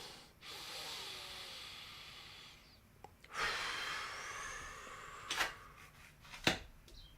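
A person takes slow, deep breaths during a quiet relaxation moment, soft airy inhales and exhales, faint and close, with a few sharper breath bursts near the end and no talk.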